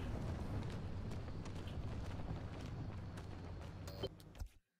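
A car in the driving game Pacific Drive rolls in reverse with a steady, loud engine rumble and road noise throughout, a couple of small mechanical clicks near the end, then abrupt silence.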